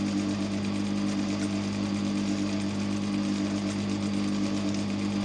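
A sewing machine stitches fabric for a bonnet, running as a steady, continuous motor hum with a strong low drone and no pauses.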